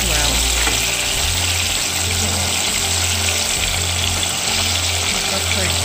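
Banana frying in a cooking pan with a loud, dense, continuous sizzle close up, a low hum running underneath throughout.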